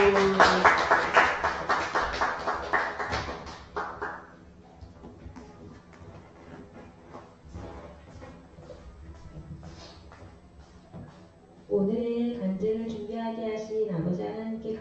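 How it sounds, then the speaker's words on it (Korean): Church congregation at a Daniel prayer meeting applauding a testimony speaker; dense clapping is loud at first and fades over a few seconds, followed by quieter sounds and then a voice speaking. "마지막으로 우리 지희봉 집사님 박수"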